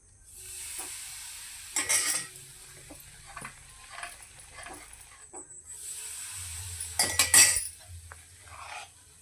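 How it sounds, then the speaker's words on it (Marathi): Mysore pak mixture cooks in ghee in a pan while a spoon stirs it, giving a soft continuous sizzle. Scraping and clinking bursts around two seconds and again near seven seconds stand out over it, with no talking. "हे बघा सतत ढवळत ढवळत राहायचं"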